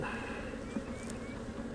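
A steady, dense buzzing of many Italian honey bees around open hives fills the air, close and continuous, with no voices.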